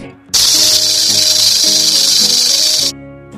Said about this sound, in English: Rattlesnake.